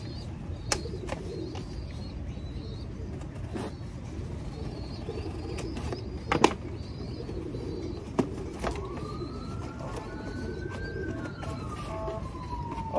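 Racing pigeons coo softly inside a shipping box being unboxed, low muffled calls repeating under a faint outdoor background, with a few sharp clicks and a distant siren rising and falling.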